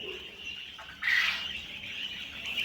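Egg-laying Japanese quail call in a bird-keeping setup: a brief, bright squawking burst rises midway over a steady thin background hum, then fades back to the quieter ambience with no talking.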